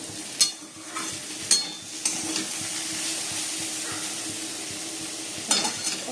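Potatoes frying in a pan, a steady hiss and crackle with a few sharp scrapes or clinks from stirring at close range, otherwise no talking.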